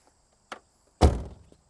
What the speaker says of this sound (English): lock the door from the inside and close it